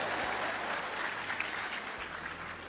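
A church audience breaks into steady, dense clapping that fills the room, sustained and even throughout without pause.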